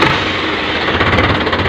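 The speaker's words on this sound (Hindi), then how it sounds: "ते थोनूं ट्रैक्टर स्टार्ट करके भी दिखाउणे आ जी" A Sonalika 750 double-clutch tractor engine runs close by, producing a loud, rough, continuous rumble with a rhythmic knocking pulse.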